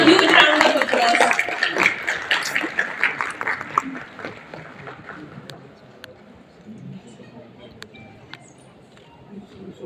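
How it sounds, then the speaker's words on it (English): Audience applause at a panel discussion on limits of criminal law in India, a dense patter of clapping that starts loud, thins and fades over several seconds, then gives way to quieter room sound and scattered claps. "give a huge round of applause"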